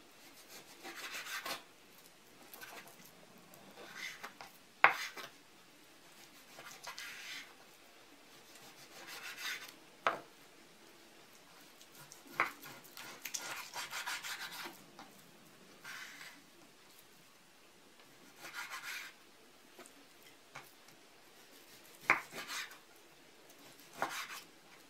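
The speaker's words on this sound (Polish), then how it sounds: "Mięso z łopatki pokroję na dość dużą kostkę, taką mniej więcej 3x3 cm." A knife slices pork shoulder into large cubes on a board, giving quiet, close rasping strokes in irregular bursts with occasional sharp taps.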